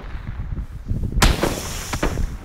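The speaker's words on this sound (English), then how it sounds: "Oh, I'm getting shot at. We're getting shot at." Gunfire in the video game PUBG (PlayerUnknown's Battlegrounds): a sudden loud blast cuts in midway, followed by a few sharper shots, all over a low rumbling game background.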